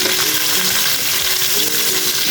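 Whole hilsa fish frying in oil in a pan, a steady loud close sizzle with crackling and no talking.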